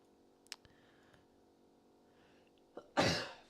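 A few faint clicks in a quiet room, then one loud, sharp sneeze bursts out near the end and fades quickly.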